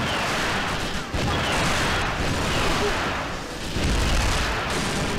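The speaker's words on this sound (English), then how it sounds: "That exploded in my face." An explosion in 007 Nightfire, a loud continuous roaring blast wash with rumbling booms that dip briefly and then swell again, close and filling the whole stretch.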